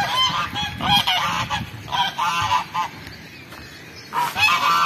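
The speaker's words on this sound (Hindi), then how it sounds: "बहुत प्यारी डक्स है।" Ducks at a home hatchery setup honk and quack repeatedly in loud, close bursts, a busy flock chattering with short pauses between calls.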